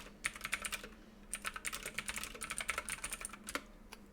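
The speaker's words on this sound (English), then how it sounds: "And I'll just go ahead and type that." Fairly quiet computer keyboard typing in an irregular run of quick keystrokes, with brief pauses, and no talking.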